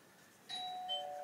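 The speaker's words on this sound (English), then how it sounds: "Oh, that's my doorbell." An electronic doorbell chimes indoors, two clear ringing tones sounding against a quiet background.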